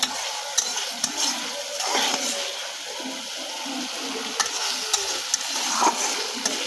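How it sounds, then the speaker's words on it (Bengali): Stinging catfish sautéing in spice paste in a pan, a steady close sizzle broken by scraping stirs and small clatters, with no voices. "এই মশলাটা আগে শিঙি মাছটা কষিয়ে নিই"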